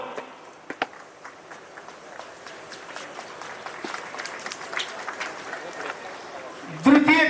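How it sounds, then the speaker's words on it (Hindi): Parents in the crowd applaud a parade commander at a UP Police constable passing-out parade at Chunar Fort in Mirzapur. Scattered claps thicken into a steady outdoor round, and a brief louder burst comes at the end. "अभिभावकगण कृपया तालियों से इनका स्वागत करें"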